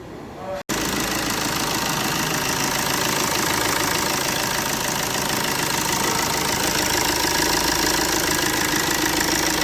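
A Fiat Fiorino 1.3 Multijet diesel engine, overhauled after a blown head gasket, cranks and catches, then runs at a loud, steady idle with continuous close-up clatter.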